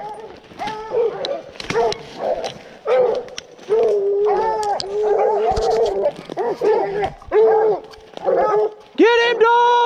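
Several hunting dogs bark, yip and whimper excitedly at close range while someone shouts over them.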